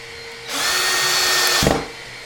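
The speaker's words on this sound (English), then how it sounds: "I'll drill in the second piece." Power drill driving a screw into a daybed bracket during furniture assembly, a single steady high whir lasting about a second, close and loud, then stopping abruptly, with no talking.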